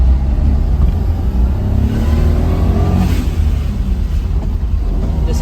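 A Suzuki Jimny fitted with a boost gauge pulls hard in second gear, its engine a loud, steady, close-up droning roar that holds constant throughout with no voices over it.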